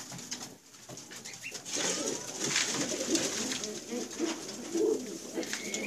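Pigeons coo softly in a loose, overlapping murmur, with faint rustling and chirps in the background.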